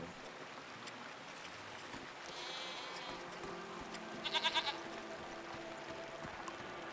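Goat bleats twice in the video game Season: A Letter to the Future as it is petted, short wavering cries standing out over a steady soft outdoor ambience.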